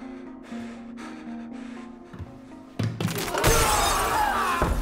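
A glass panel from the Squid Game bridge shatters suddenly partway through, after a quieter stretch of tonal hum and scattered sounds, then bursts into loud, sustained breaking and crashing.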